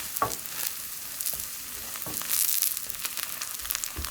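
Cabbage pancake frying in a hot pan, giving a steady crackling sizzle with small bursts of spatter and light scraping, close and fairly loud, with no talk.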